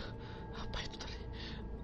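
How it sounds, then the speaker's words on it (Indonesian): Ragged, breathy gasping from someone who has just run down the stairs, a few quick heaving breaths close up in a short burst. "Nafasku terengah-engah."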